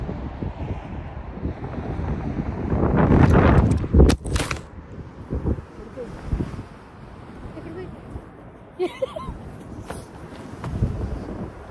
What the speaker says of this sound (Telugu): విండ్ చాలా భయంకరంగా వస్తుంది.